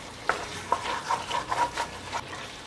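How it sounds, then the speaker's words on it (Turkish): Lamb meat stirred and sautéed in a hot pan for a Turkish kuzu kavurma, a string of close scraping stirs with a soft sizzle underneath, no talking. "Tuzunu verip kavurmaya başlayacağım."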